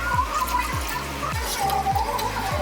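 Rice-mixed water poured into a pan of sautéed manathakkali greens for soup, a running, gurgling splash with rhythmic surges, close and steady without talk.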